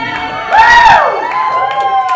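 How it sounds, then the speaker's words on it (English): A church congregation cheering during a Sunday morning worship service: a short, loud burst of whoops and shouts that rises quickly and then tapers into lighter crowd noise. "Those of you who have had that encounter are cheering."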